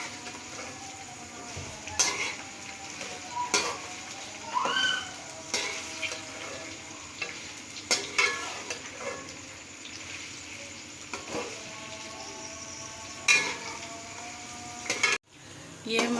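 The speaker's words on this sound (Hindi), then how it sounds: "ये हमारे दोनों चीज़ें फ्राई हो गई हैं, टिंडे और प्याज" Chopped apple gourd (tinda) and onions fry in a pan with a continuous sizzle, while a spoon clinks and scrapes against the metal at irregular intervals, close and clear. A brief voice is faintly present.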